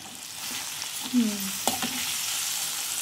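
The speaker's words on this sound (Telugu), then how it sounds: "మధ్యలో కొద్దిగా తిప్పుకుంటూ ఉండాలి" Amaranth leaves (thotakura) fry in a pan with a steady soft sizzle, while a spoon stirs and scrapes a few times, close and fairly quiet, with no talking.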